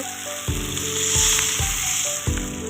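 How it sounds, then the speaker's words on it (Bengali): Hilsa fish pieces go into a pan of fried eggplant, where the oil sizzles loudly and continuously with several soft knocks from stirring or shifting pieces. "আমার বেগুনগুলো ভাজা হয়ে গেছে। এখন দিয়ে দিলাম মাছগুলো"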